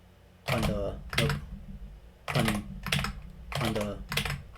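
Fast typing on a computer keyboard, heard as several dense bursts of key clatter separated by short pauses, close and fairly loud.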